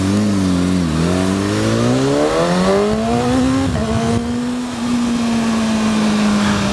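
A 2015 BMW S1000RR sportbike accelerates hard and close, its engine note climbing steadily through the revs with a brief shift dip before rising again, loud and continuous with no talk.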